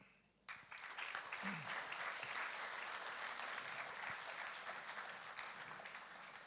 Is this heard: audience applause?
yes